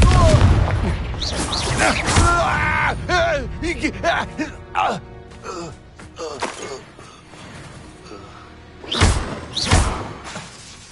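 Repeated Confringo blasting-spell explosions from the Hogwarts Legacy video game, a rapid series of loud booms and thuds mixed with combat effects and voices, then a final pair of sharp blasts near the end.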